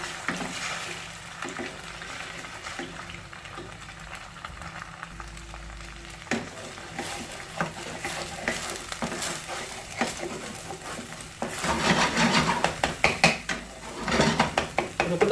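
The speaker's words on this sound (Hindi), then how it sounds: "अब इसमें एग शामिल कर लेते हैं।" Egg frying in a small amount of oil for fried rice, with steady sizzle under clattering pan and utensil knocks that grow busier and louder toward the end; no talking.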